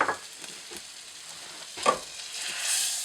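Butter melting with onions in a frying pan gives a soft, faint sizzle, with a few light clinks and a hiss that swells toward the end; no talk.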